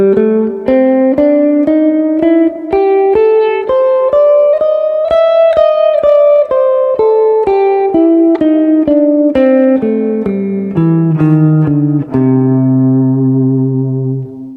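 Electric guitar plays a blues octave sequence up and down the high strings, a steady run of plucked notes that ends on a ringing, sustained note, loud and clear with slight grit and no voices.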